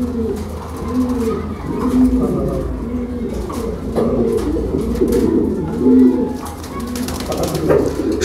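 Fancy pigeons cooing at a pigeon and poultry farm, several birds producing overlapping low throaty coos in a continuous close chorus, with faint background noise.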